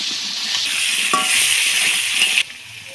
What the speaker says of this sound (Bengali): লবণ দিয়ে নেড়ে চেড়ে একটু লাল লাল করে ভেজে নিতে হবে